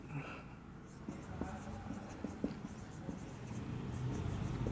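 A pen or chalk scratches steadily across a surface while a math example on metric spaces is written out, soft continuous strokes at close range with faint room noise throughout.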